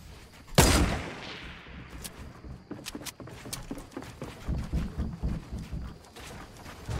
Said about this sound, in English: There's a guy sniping at me.